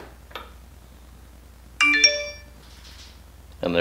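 A Schlage Sense smart door lock gives its locking chime, a bright two-tone electronic ding ringing out clearly in a quiet room, preceded by a small click and followed by a brief voice at the end.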